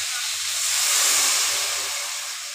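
Koi fish and potato broth at a rolling boil in a cooking pot, giving a steady, loud hissing bubble that swells slightly in the middle and carries on throughout with no talking.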